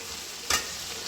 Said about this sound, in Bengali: এই যে ডিম, ইলিশ মাছের ডিম, তেল সব আছে, এটা দিয়ে একটা ভাজা ভাজা করব।